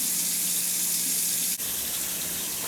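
A newly installed Moen kitchen faucet runs in a steady, full stream into the sink, a constant close gush with a brief dip midway and no talking.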